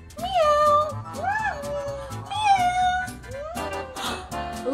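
A person imitates a cat, giving a series of about five drawn-out, rising-and-falling meows in quick succession, close and fairly loud.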